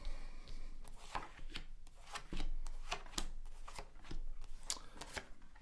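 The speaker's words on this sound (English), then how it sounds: "So I'm going to be using my Tower of Prague deck and just going to lay down 10 cards for you." Tarot cards from a Tower of Prague deck laid down one after another on a table, giving repeated soft slaps and sliding rubs of card on the surface, close and steady with no talking.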